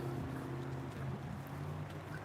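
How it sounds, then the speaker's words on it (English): A low, steady engine drone rumbles continuously, mixed with wind noise buffeting the microphone. "I hear an engine sound behind me right now."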